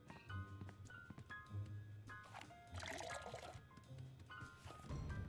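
Water being poured and collected in the Sam & Max: Beyond Time and Space Remastered adventure game, with liquid filling and dripping sounds over a game music bed, moderately loud.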